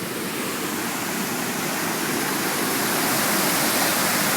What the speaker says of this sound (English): This is the Superior Street Bridge over the Leicester and the Amity Rivers.